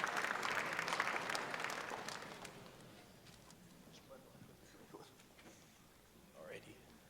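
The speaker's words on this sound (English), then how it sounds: "Let's give them a warm round of applause." An audience at a university AI hackathon claps warmly for a project team, the applause loud at first and fading over several seconds into scattered claps and a quiet room.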